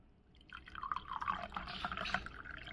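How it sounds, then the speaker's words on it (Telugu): Lukewarm water poured into a glass, a faint, close trickle and splash of liquid lasting a couple of seconds, with no talking. "గోరువెచ్చ నీళ్ళు పోసుకోవాలండి"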